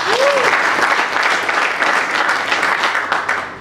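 Voters at a press union election in a hall break into applause by acclamation, a sustained dense clapping from many hands, loud and steady throughout with a brief tonal whistle near the start.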